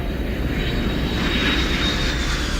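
Airplane engine roaring loud and steady during takeoff, a dense continuous drone with a thin high whine running across it and no break in level.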